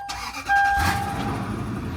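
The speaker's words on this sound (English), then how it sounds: "Engine goes ahead and fires right up" A Lexus GX470 SUV engine with about 319,000 miles cranks for a moment, then fires up loudly and settles into a steady, rumbling idle nearby.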